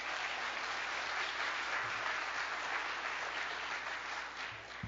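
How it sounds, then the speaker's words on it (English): Sustained applause from a seated audience at an awards ceremony for university alumni, steady dense clapping throughout, with no talk over it. "We're going to clap for each one"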